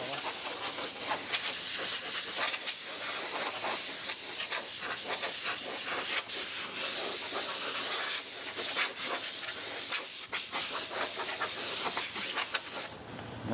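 Compressed air blasts across the body panel of a 1937 Chevy during metalwork and paint prep, a loud, steady, close hiss with a few brief dips, continuing almost the whole time before easing off.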